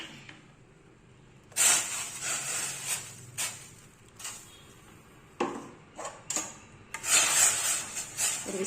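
A whisk clatters against a pan while fenugreek flour is stirred into hot water, in short scraping bursts with quiet gaps between them, heard up close.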